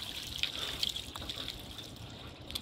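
Ice water poured from a bucket during an ice bucket challenge, a steady close splashing gush lasting throughout with a few brief sharper spatters.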